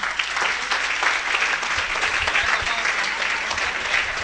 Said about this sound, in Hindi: आपकी भरपूर ताली होनी चाहिए।